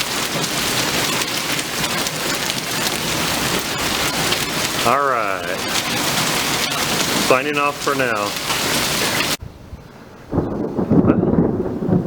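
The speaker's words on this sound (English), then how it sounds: "just to our east we have a nice storm developing" Heavy monsoon rain pours steadily with rumbling thunder and hail. The downpour cuts out briefly before a person speaks a few words near the end.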